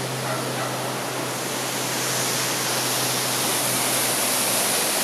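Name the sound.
waterfall in Puerto Rican mountains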